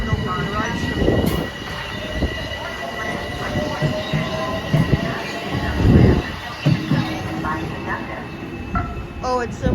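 A commuter train bound for Grand Central Terminal on the Harlem, Hudson or New Haven lines rumbles steadily with clattering wheels and occasional squeals, fairly close, as a person talks intermittently over it.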